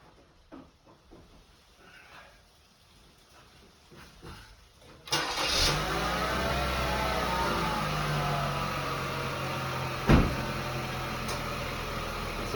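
A 2018 Chevy Equinox LX with a 1.5-litre turbocharged engine, just after an oil change: quiet clinks and handling noises first, then the engine cranks and catches, settling into a steady close idle with a brief louder bump later.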